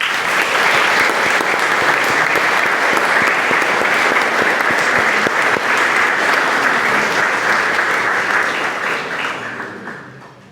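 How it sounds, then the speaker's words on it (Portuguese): A congregation at a solemn Mass in a Portuguese church applauds Sister Margarida, the youngest sister of the community, with loud, dense, sustained clapping that fades out at the end. "Por ela, saudemos uma salva de palmas."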